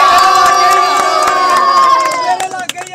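A crowd at a samosa roll eating competition cheers and shouts loudly and continuously, with children's voices and possible clapping mixed in, the din thinning out toward the end.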